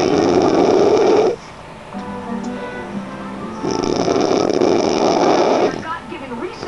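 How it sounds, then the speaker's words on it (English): A person snores loudly in long, rasping bursts, two heavy inhalations separated by a quieter pause with a low droning tone, heard up close. "She stopped snoring for right now"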